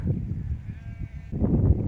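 Goats bleat in the Bezengi mountains, a couple of close, loud, wavering calls over a breezy outdoor background.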